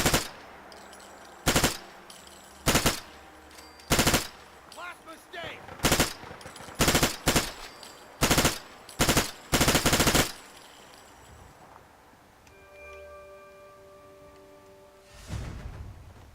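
Machine gun fire in Fallout 4 comes in loud, repeated bursts of varying length separated by short pauses. Near the end, quieter tones and a lower noise follow after the shooting stops.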